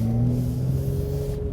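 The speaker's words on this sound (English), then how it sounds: "Listen a little bit more to the engine" A 2017 Jaguar F-PACE S's 380 hp V6 engine drones steadily at close range while accelerating uphill toward Pikes Peak, a low sustained rumble with a faint rising whine, no voices.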